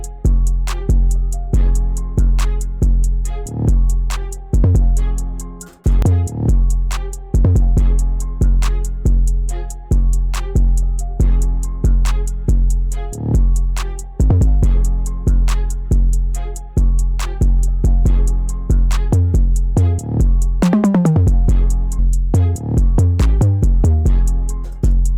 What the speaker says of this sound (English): Yeah, I like that 808 pattern a lot.